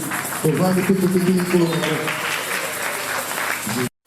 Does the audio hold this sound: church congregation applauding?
yes